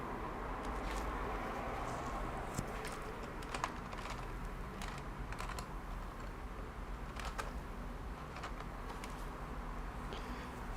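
Computer keyboard typing during a live coding session, soft scattered keystrokes in irregular bursts over a constant low background hum, fairly quiet and close.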